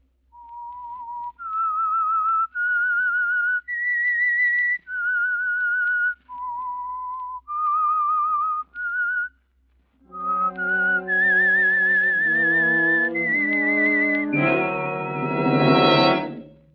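A clear, melodic whistled tune of sustained notes, the opening theme of the 1946 radio drama The Whistler, first alone and thin, then joined by a fuller orchestral swell rising to a loud finish.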